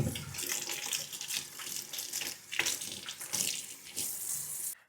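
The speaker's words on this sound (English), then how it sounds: "wash all of these really well. And you can see outside, if I just wash this out, there will be no more dirt trapped in there." Cut leeks rinsed under a kitchen tap: strong, close running water with splashing and gushing bursts as the pieces are moved through the stream, cutting off abruptly at the end.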